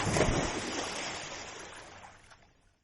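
Water splashing as a cartoon cat leaps into the sea, a broad burst of noisy spray that starts loud and gradually fades away over a few seconds, with no voices.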